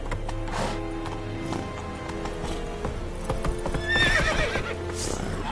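A horse in The Witcher 3 video game trots along with steady rhythmic hoof clip-clops, and a clear whinny rises near the end over faint background game ambience.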